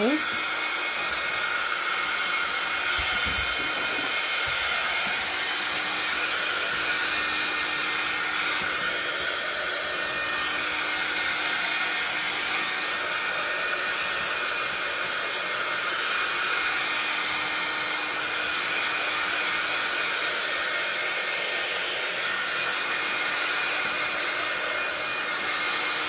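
A hair dryer blows a steady, loud, close hiss while drying paint on a cereal box journal cover, droning unbroken for the whole stretch with no pauses.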